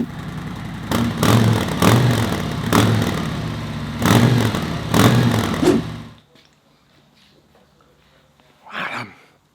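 Harley-Davidson Touring motorcycle with stock exhaust, several deep revving bursts from close by, then the engine shuts off to quiet, followed by a short voice.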